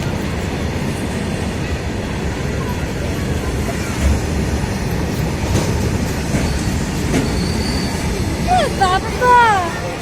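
A passing train rumbles steadily with a dense clattering roar close by, and a brief wheel squeal near the end, while people talk over it.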